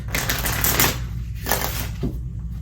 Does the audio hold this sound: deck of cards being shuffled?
yes